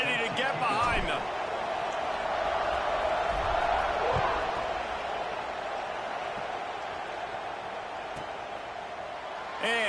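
A college football video game crowd, Western Michigan versus Penn State, roars as a steady, dense wall of distant cheering before kickoff, with a commentator talking over it.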